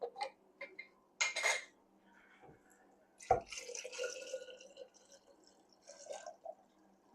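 Glass jar of lime water for preserving eggs shaken and handled in a kitchen, giving sloshing liquid, clinking glass and clattering knocks in uneven bursts, close and fairly quiet with no talking.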